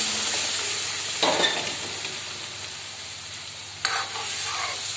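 Bottle gourd and chana dal curry sizzles steadily in a pan while a spoon stirs it in two brief scraping strokes, close and moderately loud, with no talk.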